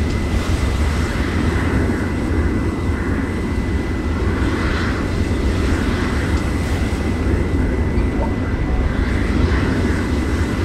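Propeller warplanes in War Thunder drone steadily and loudly throughout, a dense broadband engine roar with a faint steady whine layered on top and no pauses.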